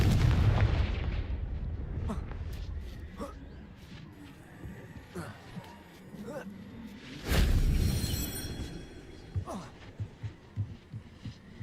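Confringo fire spells bursting in the video game Hogwarts Legacy, heavy booming blasts with one big explosion mid-way, followed by a string of shorter thuds; a voice talks over parts of it.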